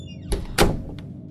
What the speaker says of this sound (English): The door opened with little resistance.